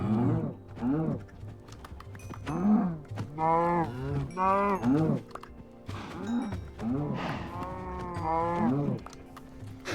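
Cows moo in the game Minecraft Bedrock Edition, a string of about six drawn-out, close lowing calls spread across the stretch, some back to back, over a faint background hum.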